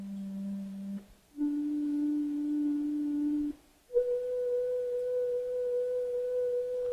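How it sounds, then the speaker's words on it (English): Pure electronic whistle from a tone generator, held steady in three stepped pitches separated by short silences, the last and highest around 500 Hz, clear and alone. "Let me turn this on to what's called a whistle."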